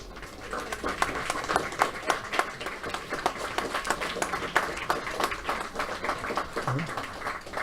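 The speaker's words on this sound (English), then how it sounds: "Let's give another big round of applause to our junior champions." Audience at a mind sports championship victory ceremony applauds junior champions, a steady round of clapping with sharp individual claps standing out, some voices mixed underneath.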